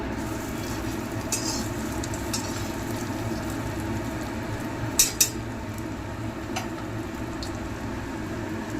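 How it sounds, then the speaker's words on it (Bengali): Prawn nuggets frying in hot oil, a steady low sizzle and bubbling throughout with a couple of brief utensil clinks near the middle. "ফার্স্টেই আমি প্রন নাগেটসগুলো দিয়ে দিচ্ছি"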